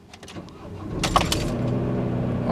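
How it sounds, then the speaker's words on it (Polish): A camper van engine cranks and catches with an odd start, settling into a steady idle rumble above 900 rpm close by, with a brief metallic jingle near the start. "No a propos auta, to ono też trochę dziwnie dzisiaj mi odpaliło."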